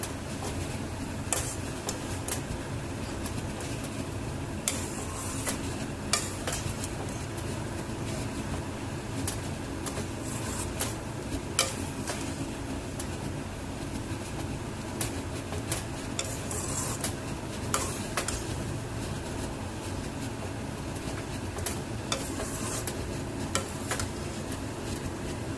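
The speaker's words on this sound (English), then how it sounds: "Ensure that it is in low flame while stirring continuously." Semolina vegetable upma being stirred continuously in a pan over a low flame, a steady soft scraping and rustling with faint clinks of the spoon against the pan, running throughout with no talk.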